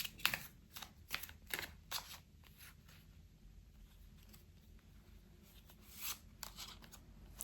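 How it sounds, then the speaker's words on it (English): Tarot cards shuffled and pulled from a deck: a string of quiet, crisp riffling and flicking bursts close to the mic, separated by soft gaps, with no talking. "Let's get two more cards out here."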